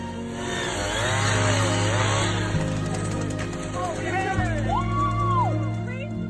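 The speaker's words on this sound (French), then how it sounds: "Imaginez à quel point il était difficile de séparer les animaux à l'aide d'une tronçonneuse sans les blesser." A chainsaw whines and buzzes while cutting apart the locked antlers of two deer, its pitch shifting as it bites, with a voice speaking over the sawing.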